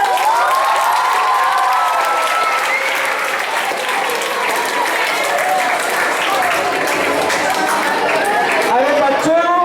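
Children in a school audience at a Hindi Diwas celebration break into loud, sustained applause for a recited Hindi poem, clapping steadily throughout with cheering and crowd chatter mixed in.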